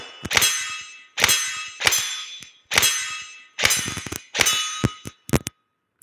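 Airsoft BBs striking steel targets during a basic shooting drill, giving sharp ringing clangs, about seven hits in an uneven series, each ringing briefly before the next, close and loud, with no voices.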